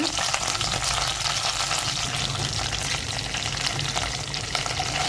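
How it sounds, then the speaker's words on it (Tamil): Curry leaves spluttering and crackling in hot oil with browned garlic, a loud, continuous close-up sizzle with sharp pops throughout. "பூண்டு செவந்த பிறகு கருவேப்பிலை போட்டுக்கோங்க கொஞ்சம் தெரிக்கும் தள்ளி நின்று போட்டுக்கோங்க"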